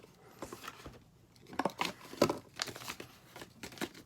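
Plastic packaging around a Roxon Storm S801S multitool is crinkled and torn open, giving close, irregular bursts of rustling and crackling with no talking.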